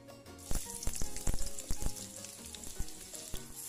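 Chopped onions fry in a little oil in a wok, a close, bright hiss of sizzling with sharp crackles and pops scattered throughout, and the spatula stirring now and then.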